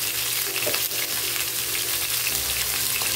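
Mixed vegetables with sweet corn frying in a pan, a loud continuous close sizzle with faint stirring touches and no voice.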